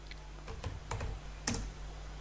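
Code being typed on a computer keyboard makes a close, quick run of irregular key clicks, with a few sharper taps standing out and no voices.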